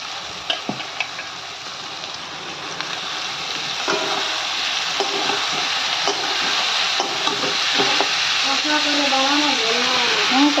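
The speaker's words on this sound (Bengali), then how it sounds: "আলুটাকে ভালো করে কষছি।" Potatoes sautéed and stirred in a pan for a jackfruit curry, a steady close sizzle with scraping stir strokes throughout, a voice speaking briefly near the end.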